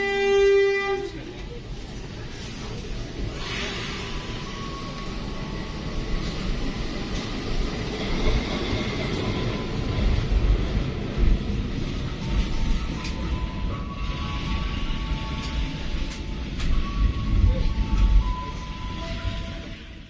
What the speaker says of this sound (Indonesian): Nah ini kita papasan sama kereta apa ini yang dari arah timur